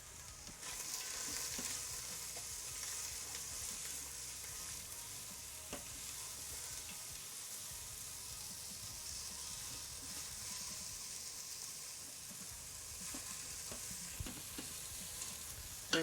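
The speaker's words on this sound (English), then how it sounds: "So we're just going to let those saute for a minute." Vegetables sauté in an Instant Pot with a faint, steady sizzle and an occasional soft tap or stir, with no voices.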